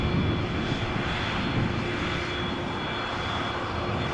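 An Embraer 175 jet at Amsterdam Schiphol Airport, a steady broadband engine roar with a thin high whine, holding loud and even for several seconds with no talk.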